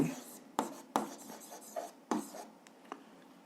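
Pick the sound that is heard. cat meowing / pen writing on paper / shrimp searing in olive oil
pen writing on paper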